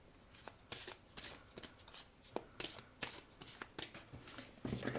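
A deck of cards is shuffled for a tarot-style card reading, with a series of quick riffling bursts and sharp flutters repeating close up over a low background hum.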